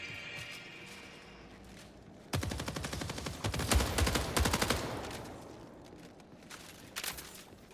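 Rapid automatic gunfire in the Marathon shooter game, a dense burst of fast repeated shots lasting about three seconds, loud and close, followed by a shorter burst of a few shots near the end.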